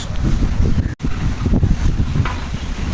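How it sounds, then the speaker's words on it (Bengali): Strong wind gusts across an open river bank where excavation work is underway, roaring and buffeting close to the microphone with one brief dropout. "খুব বাতাস আজকে"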